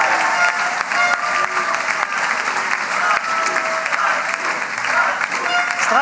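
Warm, sustained applause from a crowd at a political youth rally in Malakoff, honoring a Nobel chemistry laureate, dense and steady throughout with scattered voices and cheers mixed in.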